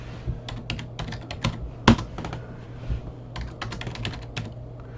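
Keys clatter on a computer keyboard during setup of a retro TV installation, an irregular run of clicks with one louder keystroke, close and clear with no talking.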